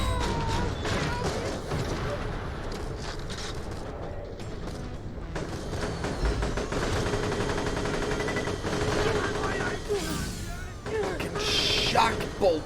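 Rapid shock bolt shotgun blasts in Borderlands: The Pre-Sequel, a dense, continuous barrage of loud crackling shots with mechanical clatter, under a voice talking throughout.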